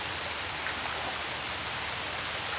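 Rain falls steadily outdoors as a dense, even hiss of drops, continuous and fairly loud, with no voices.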